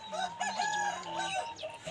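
A year-and-a-half-old rooster, one of a flock offered for sale, gives a brief, fairly close crow with a rising and falling call, alone without talk.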